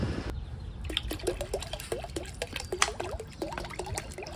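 Liquid organic fertiliser mixed with water pours steadily into a container with a trickling, gurgling sound and small splashes, fairly close and with no talk.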